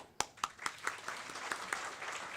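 Audience clapping at a degree distribution ceremony, a sparse handful of distinct claps building into a light, scattered round of applause, fairly faint and without talk.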